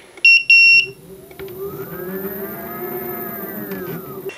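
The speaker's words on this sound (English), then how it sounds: "That beeping is so annoying though." A hoverboard under repair gives two sharp, loud electronic beeps in quick succession, then a smooth tonal motor whine that rises and holds close by.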